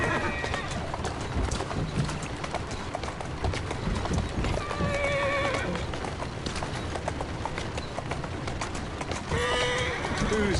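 Horse hooves clip-clop rapidly and a horse neighs and whinnies a few times in the street-riding game Assassin's Creed Syndicate, with voices talking over the hoofbeats.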